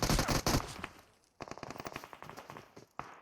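Rapid automatic gunfire in the PUBG Mobile battle royale game, a dense loud burst followed after a short pause by a longer stuttering volley and a final single shot, with no speech.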